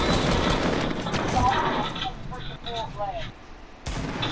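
Rapid, dense gunfire from a video game crackles throughout, loud and continuous with brief dips, while voices talk over the shooting.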